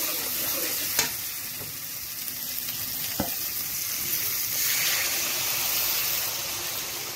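Spice masala frying in oil for a Kabuli chickpea curry, a continuous close sizzle with stirring scrapes and a couple of sharp clicks from the utensil.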